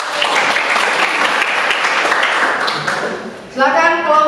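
A high-school history class in Ambon breaks into dense, close applause that holds steady for about three seconds, then fades as a voice starts speaking.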